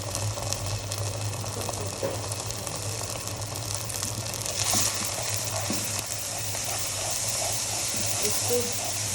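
Onion frying in a pan with ginger and garlic paste while preparing a fish roe dish, a continuous dense sizzle and hiss with faint stirring scrapes, close and steady throughout.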